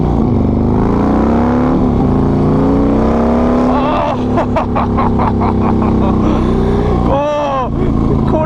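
A Harley-Davidson motorcycle with a 120R Twin Cam engine revs and accelerates at quarter throttle, a loud steady rumble with rising pitch sweeps and a sharp rev burst near the end.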